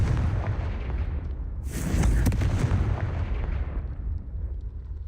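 Confringo explosive spell cast in Hogwarts Legacy, a deep rumbling blast that swells with a sharp crackling burst near the middle and then rolls off into a fading boom.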